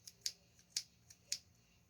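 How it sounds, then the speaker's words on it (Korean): Scissors snip into a Gundam model kit box, three sharp close cuts with softer ticks between, alone in a quiet room. "이건 상자를 뜯을 가위입니다"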